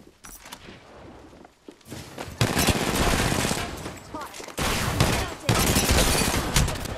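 Rapid bursts of automatic gunfire in an Apex Legends fight, starting softer then growing loud and dense in two long volleys, with brief pauses and voices talking over it.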